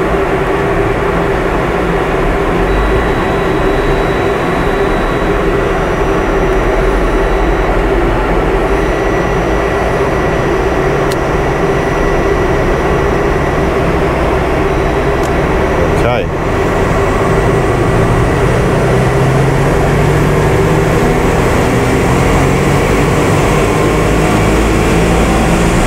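A Subaru Forester XT turbo engine idles at operating temperature, a loud, steady drone with a constant hum and one brief click partway through.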